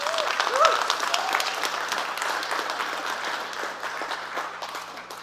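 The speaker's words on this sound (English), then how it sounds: "give a big round of applause for everyone who has helped create this event for you today" Applause from a high school TEDx audience for the event's organizers, a broad, steady clapping crowd that starts strong with a brief whistle and slowly fades toward the end.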